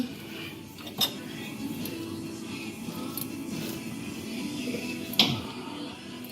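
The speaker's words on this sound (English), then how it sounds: "I got a oil filter socket here. Get in here to the oil filter." An oil filter socket clinks against the oil filter of a 2017 Yamaha Viking, with two sharp metallic taps standing out from a low, steady background hum.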